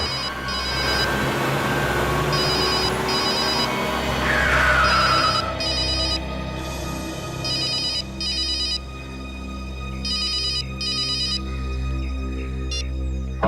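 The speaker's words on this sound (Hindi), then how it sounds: "सर, आपका फोन बज रहा है।" A telephone rings with repeated electronic ringtone bursts in regular on-off pulses, loud over a constant low hum and background music in a crime drama scene.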